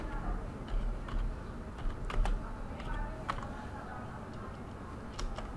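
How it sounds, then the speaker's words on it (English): Computer keyboard typing during router network configuration, a quick irregular run of light clicking keystrokes close by, with occasional louder taps over a low background hum. "And now we type the network address."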